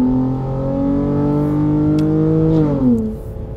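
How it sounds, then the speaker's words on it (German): A Dodge Challenger SXT's 309 PS Pentastar V6 accelerates hard nearby, its loud, smooth engine drone climbing steadily in pitch before dropping sharply near the end, heard alone. "Zumal auch ein V6 kann geil klingen, wie wir gerade gehört haben."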